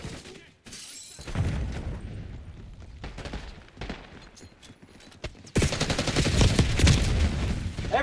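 Dense, chaotic gunfire in Black Ops 6 multiplayer, with overlapping bursts of shots and impacts throughout, growing louder and more intense near the end.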